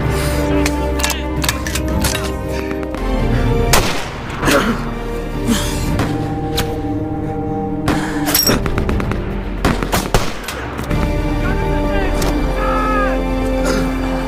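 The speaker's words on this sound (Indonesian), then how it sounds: "Jim tak mau diam begitu saja dan mulai menembak para penembak jitu Jerman dari kejauhan" Gunfire from a soldier shooting at German snipers from afar in a World War I setting, with repeated sharp shots and booms over a dense, loud music bed and narration.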